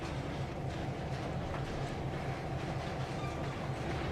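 A train rolling along in the Trainz 2022 railway simulator, a steady dense rumble with clattering wheel noise throughout, loud and continuous with no voices.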